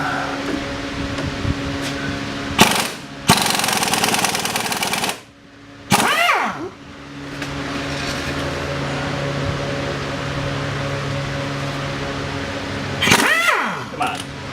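A 1/2-inch impact wrench hammers at a CV shaft nut on a 2007-2015 Chevy Silverado 1500, firing in several loud, rattling bursts, one lasting about two seconds, with quieter workshop noise in between.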